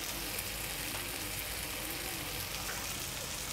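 Onion and besan curry fries with turmeric, coriander-cumin powder, Kashmiri red chilli and garam masala, a dense, even sizzle that holds steady and close without a break.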